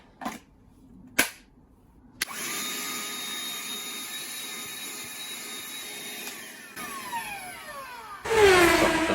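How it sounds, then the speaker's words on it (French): Small Ryobi 18-volt cordless hand vacuum cleaner used in a camper van, a steady whirring motor hum running for several seconds after a few sharp clicks, ending in a louder burst, with no talking. "Petit achat pour le camping-car, un petit aspirateur en 18 volts."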